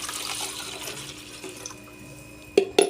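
Water poured into a container for a balloon activity, a soft trickling and splashing flow followed by two sharp, brief clunks near the end.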